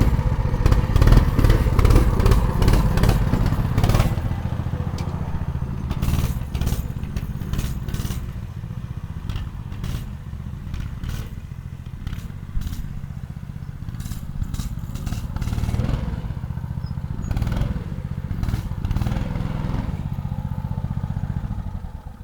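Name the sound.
CT100U minibike with new engine running in yard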